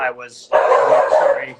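A dog barks a couple of times close by, overlapping someone speaking on a call.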